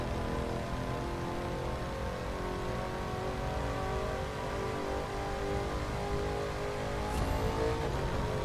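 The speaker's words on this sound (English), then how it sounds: "Nothing like hitting that turbo boost through the city" A car engine in the racing game The Crew 2 revs steadily as turbo boost kicks in during a city drive from Miami to LA, a continuous loud drone with no talking.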